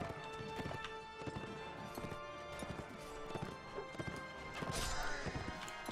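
Hoofbeats of a galloping horse in the medieval combat game Mount & Blade: Warband, a steady rapid clatter running throughout amid battle clashes and occasional impacts.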